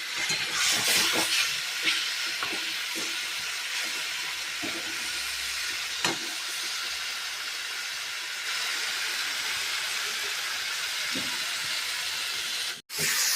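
Spiced duck eggs frying in a pan hiss and sizzle steadily after a little water is added, a broad bubbling noise with a few crackles, fairly quiet and without speech.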